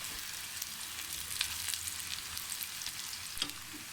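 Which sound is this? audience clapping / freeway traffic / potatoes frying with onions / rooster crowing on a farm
potatoes frying with onions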